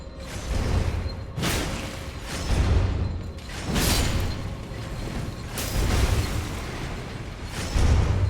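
Exploding enemies in the Elden Ring video game, a series of loud booming blasts at irregular intervals, each with a sharp burst and a rumbling tail, one after another with no talk.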